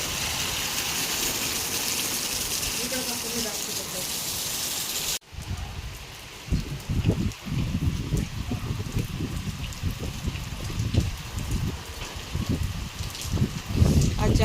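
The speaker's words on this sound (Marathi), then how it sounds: "पाऊस चालू आहे इकडे" Steady rain falls with a dense hiss, then patters and splashes on surfaces nearby, with occasional voices under the downpour.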